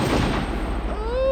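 A single shotgun blast rings out during a waterfowl hunt in Alberta, a sharp loud report at the start that rolls and decays, followed by a faint whistling tone and a brief voice.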